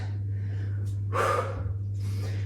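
Breathy, forceful exhales during a yoga HIIT workout, with a sharp whooshing breath in the middle and softer puffs around it, all over a steady low electrical hum.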